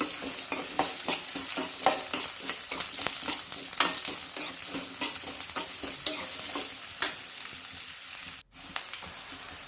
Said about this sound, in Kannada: ಸೊ ಮೊದಲಿಗೆ ನಾವು ಈರುಳ್ಳಿನ ಸ್ವಲ್ಪ ಫ್ರೈ ಮಾಡ್ಕೊಳ್ಳೋಣ